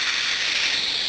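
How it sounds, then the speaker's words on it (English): Cooking spray hisses onto a baking mat in one short, steady, close burst of bright aerosol noise with no talking. "I am spraying the mat to get a"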